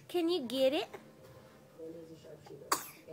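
A single sharp sneeze bursts out near the end, loud and sudden, after a stretch of speech from a couple of voices.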